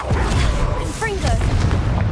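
Confringo, the fire-blast spell in the Hogwarts Legacy video game, going off as a dense burst of booming game effects with bright whooshing chirps, heard close and loud within a busy soundscape.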